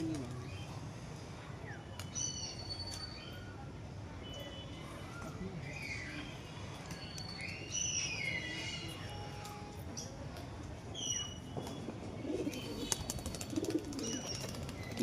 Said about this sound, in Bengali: মোটামুটি মাসখানিক পর উড়াচ্ছি কবুতর